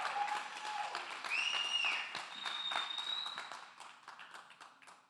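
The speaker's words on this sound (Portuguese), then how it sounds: "aplaude aí com mais força" A church congregation claims loudly at first and then more strongly on cue, a dense crowd clapping that carries under whoops and a sung or shouted tone before tapering off toward the end.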